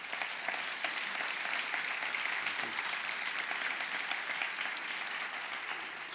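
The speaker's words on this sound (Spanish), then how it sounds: "les pido que le demos un fuerte aplauso" A church congregation applauds a visiting pastor with steady, sustained clapping from many hands, fairly distant and even throughout, with no talking over it.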